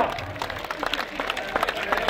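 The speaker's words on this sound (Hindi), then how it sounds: "अरे तालियां बजाओ," A crowd claps at a religious bhandara feast in Kablana attended by Yogi Adityanath, a soft, steady wash of many hands with occasional sharper claps standing out, heard from a moderate distance.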